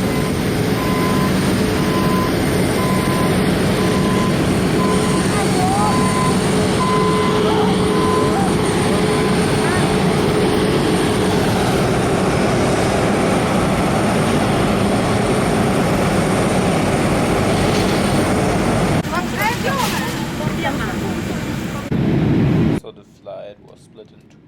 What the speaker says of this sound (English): It's a big jet.